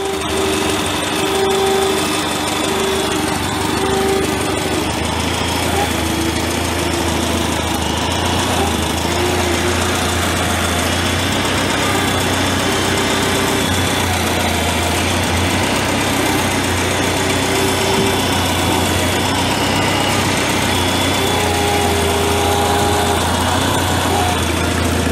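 Hydraulic pump on a Farmall Super A tractor running with the engine idling, a steady close drone with intermittent whining tones rising and falling over about twenty-five seconds, no speech.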